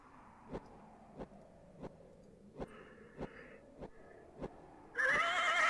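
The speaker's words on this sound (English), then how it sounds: "It whinnies its approval." A horse in the retro adventure game King's Quest 2 AGDI gives a digitized whinny, preceded by evenly spaced sharp clicks and ending in a sudden loud burst of bright noise, with no talking.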